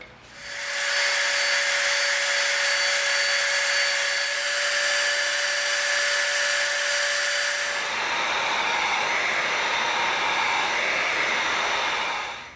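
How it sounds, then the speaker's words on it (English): A Dremel rotary tool whines steadily while trimming the edges of EVA foam for a Green Hornet gas gun prop, loud and close, with the pitch dropping and roughening partway through as it bites into the material. "now let's get our Dremel out. Let's clean up these edges just a little bit"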